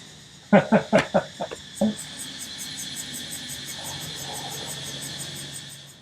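Insects drone in a continuous high, pulsing buzz in the background, while a person speaks a few short words near the start.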